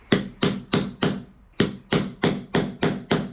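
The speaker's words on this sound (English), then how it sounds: "I'm going to use a hammer and chisel to notch out for the keeper" Hammer blows drive a chisel into timber, notching a recess for a Yale night latch keeper: ten sharp regular knocks with one brief pause, close and loud.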